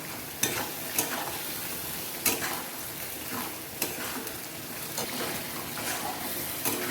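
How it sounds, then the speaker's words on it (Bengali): Spice masala sizzling and frying in a pan for goat meat curry, with a steady crackle and intermittent scraping stirs that repeat every second or so, fairly close and moderately quiet, no talking. "মশলাটা ভাজা ভাজা হয়ে গেছে"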